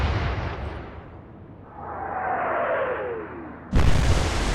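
Heavy cruiser Cumberland's guns fire high explosive shells in the Atlantic Fleet naval game: a rumbling broadband blast fades into a descending whistle of the shell in flight, then a sharp loud impact boom at the end.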